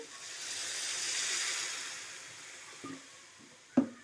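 Water poured into a hot pan of frying potato curry with chilli and coriander powder gives a loud steady hiss that slowly fades, followed by a couple of faint clinks near the end.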